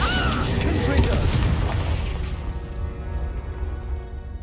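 A Confringo blasting spell goes off in the Hogwarts Legacy video game as a loud, booming explosion that rumbles and slowly fades away over several seconds.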